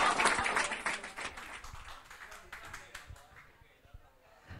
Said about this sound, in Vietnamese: Chúng ta dành một tràng pháo tay thật lớn